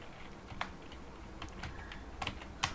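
Keys clatter on a computer keyboard as HTML code is typed, a quiet run of soft clicks broken by a few sharper, louder keystrokes.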